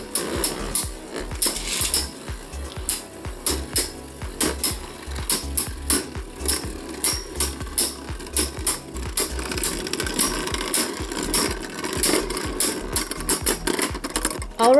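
God Valkyrie Beyblade spinning tops battle in a plastic stadium with a rapid, rhythmic clattering and scraping. Repeated bursts of clicks and whirs pulse at a steady beat, close and fairly loud, with no speech.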